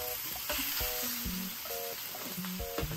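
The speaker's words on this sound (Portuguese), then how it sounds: "Vamos botar aqui a carne agora" Ground meat sizzles steadily in a hot pan for homemade hamburgers, a loud continuous frying hiss with occasional clinks and scrapes of a utensil stirring, close up and with no voices.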